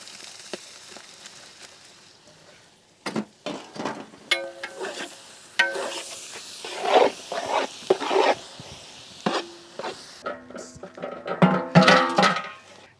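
Tomato pieces stirred in a cooking pot for goat intestine biryani, bursts of scraping and clattering stirring with light sizzling, irregular strokes after a quiet opening, close by.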